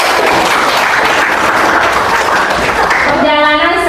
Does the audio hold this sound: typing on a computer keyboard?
no